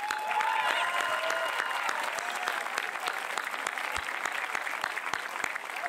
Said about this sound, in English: Applause to our tech coordinators.